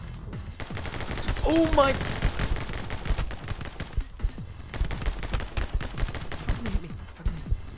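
Video game gunfire crackles in rapid bursts and sharp single shots, loud and close, while a voice exclaims and talks over the shooting.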